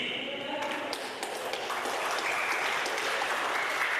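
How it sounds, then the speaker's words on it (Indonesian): An audience at a writing camp claps after a poem reading, a moderately faint, sustained patter of hands with scattered individual claps standing out. "kasih tepuk tangan nih teman-teman"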